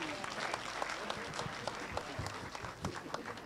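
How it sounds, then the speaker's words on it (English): A crowd at an anticorruption day event in Kenya claps for a young speaker, a faint but steady spatter of many hands with individual sharp claps standing out. "Another round of applause for Nancy Mumbi."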